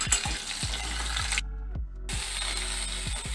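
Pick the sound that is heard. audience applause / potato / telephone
potato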